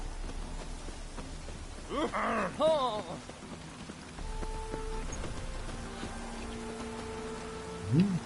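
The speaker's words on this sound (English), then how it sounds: "Looks like rain." Steady rain falls across an outdoor scene in the video game The Witcher 3: Wild Hunt, a soft continuous hiss with a few game tones and brief voice-like sounds over it.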